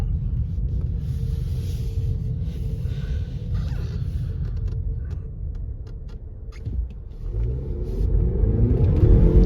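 A 2022 Ford Bronco Sport with the 2.0 engine accelerates from a standstill, with deep, loud engine and road rumble heard from inside the cabin that swells toward the end of the run.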